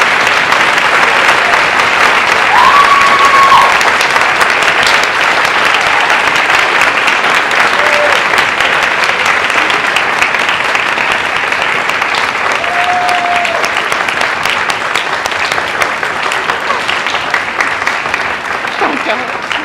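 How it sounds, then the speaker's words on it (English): Sustained applause from a school spring concert audience honoring graduating seniors, a steady dense wash of clapping that holds for the whole stretch, with brief voices and a few cheers rising above it. "A round of applause for these wonderful seniors."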